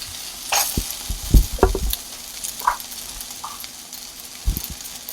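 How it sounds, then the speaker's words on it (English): A three cheese sandwich of cheddar, cream cheese spread and provolone sizzles on a hot griddle, a soft steady crackle broken by a few close knocks and scrapes. "throw it together on the griddle, and let it heat up. Alright, so let's throw that on there. And that's a nice sound."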